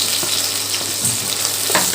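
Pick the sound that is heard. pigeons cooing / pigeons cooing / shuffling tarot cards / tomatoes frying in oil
tomatoes frying in oil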